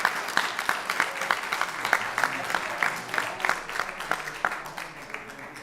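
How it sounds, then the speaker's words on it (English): Applause from a room of attendees at a school district board meeting honoring employees of the year, steady dense clapping with scattered sharper claps, moderately loud and continuous throughout. "I just want one more big round of applause and congratulate all of our"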